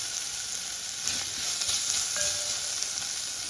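Spices fry in oil for moraiyo khichdi, a steady close sizzle with faint stirring scrapes and no voices.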